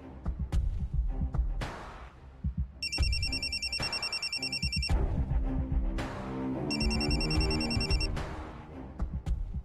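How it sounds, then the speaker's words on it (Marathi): A telephone rings in two separate bursts of repeated electronic trills. It cuts through steady background music in a Marathi TV serial scene, and the phone is cut off without being answered. "कुणाचा फोन आहे? घे की, कट कशाला करतेस?"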